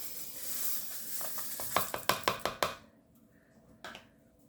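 Spatula folding sprinkles into small-batch vegan funfetti cookie dough in a bowl, a series of about six short scraping knocks in quick succession mid-clip, then quieter, with one more soft scrape near the end.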